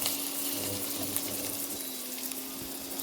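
Steady running water splashes and gurgles continuously as rice is rinsed under a flowing tap, close and fairly loud with no voices.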